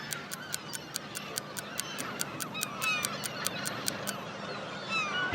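Seagull calls, a rapid run of sharp, evenly spaced honking cries that continue for several seconds over faint background ambience, then trail off into a few softer calls.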